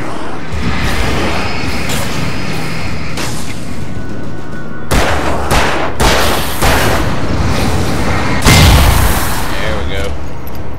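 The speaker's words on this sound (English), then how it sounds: "There we go. Explosions are good." Loud booms and bursts of gunfire crackle repeatedly in the video game Alan Wake, with heavy explosions hitting around the middle and near the end, a voice talking over parts.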